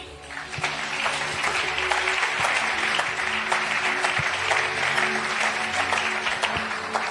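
A church congregation applauds in a dense, continuous round of clapping at a steady level, with faint voices mixed in underneath.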